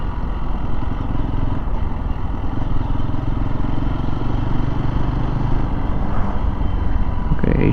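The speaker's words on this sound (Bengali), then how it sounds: "এখানে কিছু বাইকার আসছে নাকি নাকি" Motorcycles of a group of bikers approach along a road near Zakiganj market on the Bangladesh side of the border, a steady, loud engine drone with rattling clatter running throughout and no pause.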